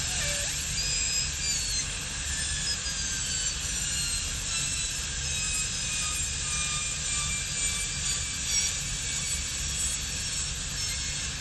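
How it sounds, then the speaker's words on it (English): A high-pitched dental drill whines continuously as its burr cuts a tooth during crown preparation, steady and close with slight pitch wavering throughout and no talking. "because the burr is the thinnest from the tip, so I start occlusally"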